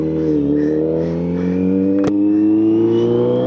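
A Kawasaki Z900 big bike's engine idles close by with a steady, loud, even drone and one sharp click partway through, with no one talking.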